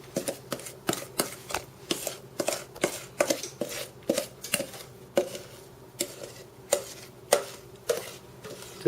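Wet and dry cookie dough ingredients for cranberry cookies being mixed in a bowl, a steady run of sharp rhythmic knocks and scrapes at roughly twice a second, close and distinct, no talking.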